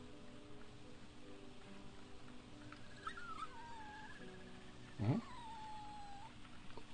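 A puppy in a horror video game whimpers and yelps in a series of thin, wavering cries, with one sharper, louder yelp near the end over a quiet, steady background.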